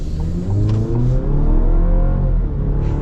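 A 2023 Nissan Frontier mid-size pickup truck accelerates hard from a stop, its engine note rising steadily through a rev with a brief dip at a shift, loud and close from inside the cab.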